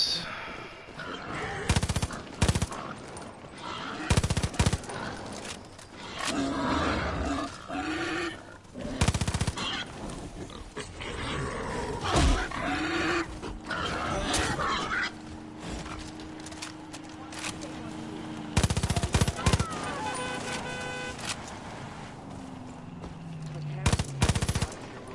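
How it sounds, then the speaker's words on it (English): Gunfire in Far Cry New Dawn, with bursts of automatic fire and single shots cracking through at irregular intervals, loud and close, alongside hoofbeats and other game noise across a busy outdoor fight. "I heard a shot."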